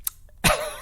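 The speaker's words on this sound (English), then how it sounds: "I was like, I need to clear my throat" A single close, loud throat clearing bursts out after a brief faint click, a short rough guttural rasp fading quickly.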